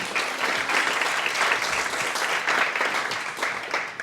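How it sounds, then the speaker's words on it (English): Audience at a climate summit applauding a speaker invited onto the stage, a steady, full wash of clapping that holds evenly throughout without any talk over it. "Please give a round of applause for Martina."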